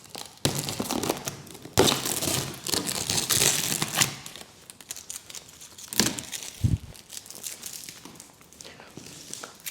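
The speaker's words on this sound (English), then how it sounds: "We're gonna open it up with the trusty scissors." Scissors cut and tear open a sturdy cardboard box holding an EGO Power+ SNT2112 snow blower, giving loud close crinkling, scraping and ripping bursts in several separate passes.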